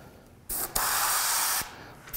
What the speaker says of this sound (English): I'm gonna come in and spray this dark green here